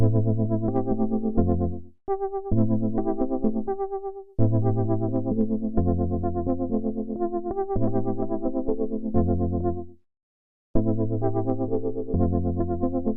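Keyboard chords ring out in sustained blocks, some notes entering after others, with heavy effects-unit colouring and slight distortion; several short gaps of silence break the playing, no voice.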